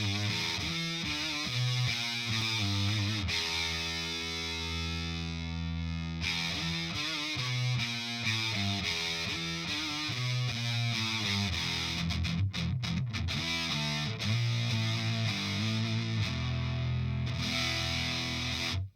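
An electric guitar through a Walrus Audio MELEE fuzz pedal set to its dark position, played in front of an amplifier, grinds out thick, loud riffs and chords with dense distortion, short gaps between phrases, and no talking.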